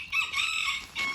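A rooster crowing in a backyard poultry flock, one loud, close cock-a-doodle-doo with a sustained middle and a brief final rise, heard alone with no talking.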